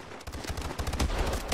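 Rapid bursts of video game gunfire crackle in quick succession, dense and continuous through a short stretch, moderately loud with no talking.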